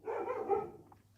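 A single muffled dog bark sounds from another room, faint and brief against a low electrical hum.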